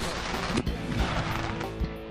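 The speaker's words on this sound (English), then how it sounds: "And at the end of the day, they get to shoot fireworks." Fireworks shells fired at a live demonstration during a fireworks training seminar, heard as repeated dull booming thumps within a constant, noisy outdoor rumble.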